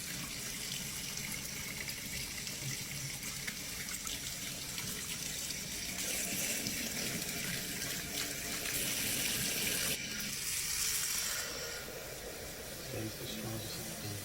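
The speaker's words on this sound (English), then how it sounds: "Robbie shows how soapy the coffee maker becomes when water is added." Steady running water pours and gushes into a coffee maker for several seconds, swelling louder midway, like a tap filling a container nearby.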